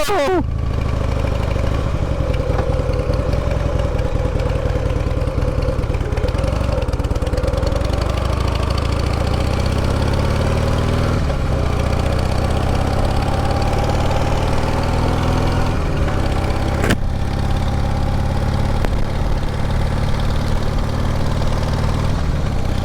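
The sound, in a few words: motorcycle engine running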